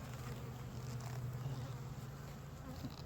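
Honeybees in a small resource hive produce a close, low, continuous buzzing hum with no pauses. No one speaks.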